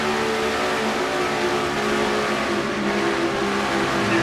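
Race car engine revving near 9,200 RPM through turns one and two at Atlanta in a stock-car racing video game, a loud sustained high-pitched whine with no talk over it.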